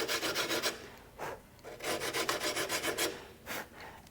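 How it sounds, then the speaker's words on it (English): Fine rasp filing the sides of a wooden bow, close rhythmic scraping strokes in quick back-and-forth bursts with brief pauses between runs. "I'm going to go back to my fine rasp and keep these sides symmetrical"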